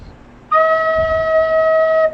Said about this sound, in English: This is mi bemol. It sounds like this.